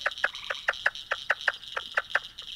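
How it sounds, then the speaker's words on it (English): A Plains Leopard Frog's recorded chuckling call: a rapid series of about a dozen evenly spaced, clucking pulses, close and clear, over a bed of other frogs calling in the background. "So that is the Plains Leopard Frog."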